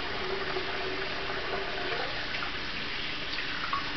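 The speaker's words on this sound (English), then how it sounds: "So I just let the water get warmed up and stuff like that, because hot water works best with all this." A bathroom tap runs steadily as the water warms up, giving a constant close rush of flowing water with no talk.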